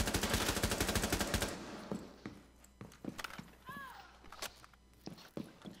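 Video game gunfire: a rapid automatic burst of close, loud shots, then scattered single shots and impacts at varying distances, with voices speaking over part of it.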